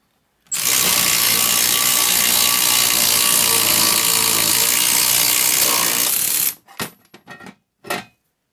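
A 2-inch die punch being pulled through metal: a loud, steady grinding ratchet-like strain for about six seconds, then a few short clanks and clicks as it breaks through, close and without talk.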